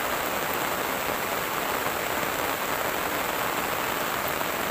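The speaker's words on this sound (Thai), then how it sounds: "ฝนมาพี่น้อง" Steady, dense rain pours onto surfaces nearby during a rural fish-trapping outing, a constant loud hiss with no breaks and no voices.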